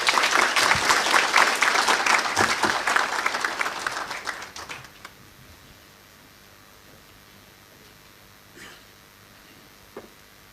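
Applause from a conference audience after a national border management conference is declared open, loud and dense for about five seconds, then fading quickly into near silence with a few faint scattered sounds.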